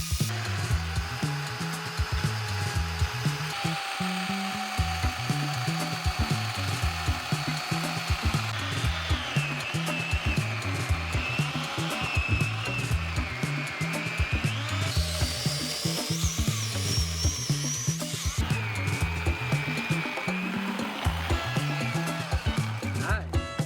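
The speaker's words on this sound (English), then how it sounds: "2 feet of this log with this electric chainsaw" Electric chainsaw cutting through a raw log, run off an extension cord from a portable power station, giving a steady, loud motor whine with shifting pitch and continuous rasping of the chain through wood throughout.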